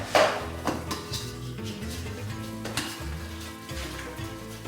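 Potatoes and peppers roasting in a pan are stirred and tossed, a steady close sizzle running throughout with scraping knocks of the utensil against the pan, no voices over it.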